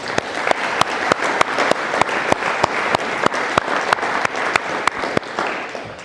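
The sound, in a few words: audience applause at a ceremony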